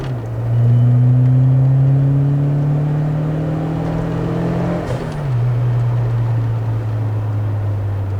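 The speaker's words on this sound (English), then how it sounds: "we've got a dump valve, a Bailey's dump valve" A Fiat Uno Turbo mk1 engine holds a steady loud drone that rises in pitch, then a sharp dip near the five-second mark as the Bailey's dump valve vents with a brief whoosh, before the engine settles back to a steady tone.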